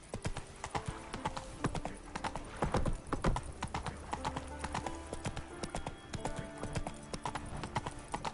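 Roach, the horse in The Witcher 3 on PS5, gallops with rapid, loud, rhythmic hoof clip-clops close up, alone without talk.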